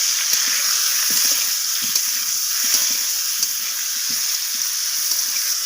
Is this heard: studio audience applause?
no